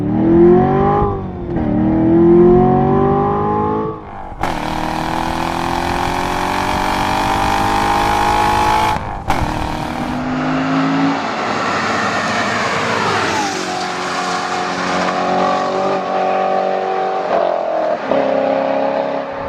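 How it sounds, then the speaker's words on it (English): A loud 2014 Chevrolet Corvette Stingray Z51 exhaust in its loudest, lowest-restriction mode roars as the engine revs up through several gears, rising in pitch with each pull, close and continuous. "Notice the exhaust. This is the loudest, lowest restriction exhaust mode there is."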